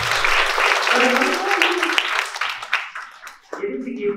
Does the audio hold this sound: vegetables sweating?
no